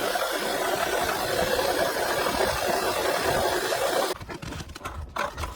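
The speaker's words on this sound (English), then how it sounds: "Mechanically faulty coolant pump. Pump bearing failed and rubbing against the supercharger clutch disc." A Volkswagen 1.4 TSI supercharged and turbocharged engine with a failed coolant pump bearing rubbing against the supercharger clutch disc runs with a loud, steady rushing, rattling drone, heard up close, that drops abruptly near the end.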